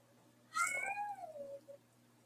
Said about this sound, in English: The cat wants to talk